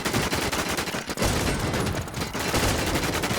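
Dense, rapid bursts of gunfire in the game Warz, loud and continuous with brief pauses, like automatic weapons firing close by.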